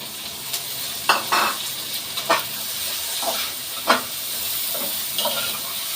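Eggplant frying in a hot pan for a home-cooked vegetable dish: a steady sizzle and hiss with several sharper crackling bursts as the pieces are stirred, close and fairly loud.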